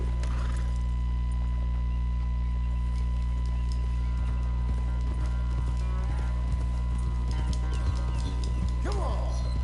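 A horse in the Western game Red Dead Redemption II clip-clops along over a constant low droning background, the hoof beats faint and steady, with an occasional snort or whinny near the end.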